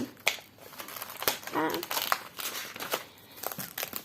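Crinkles from a paper surprise packet being handled come in short, uneven bursts, quiet and close, with a voice speaking softly in between.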